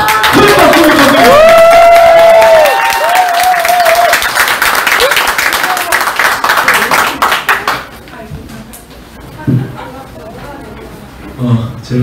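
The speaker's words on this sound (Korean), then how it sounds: "여러분 큰 박수 부탁드립니다." A crowd at a political party members' event in Daegu breaks into loud, close applause with some cheering, strong for several seconds and then fading to scattered claps as a voice speaks over a microphone.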